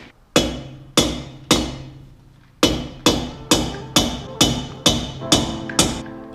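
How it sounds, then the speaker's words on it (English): Hammer blows driving a metal pin back out of a hole in a workshop, ten sharp ringing strikes, three spaced then seven in a quicker even rhythm, close and loud. "So now we've got to hit the pin back out and start over again."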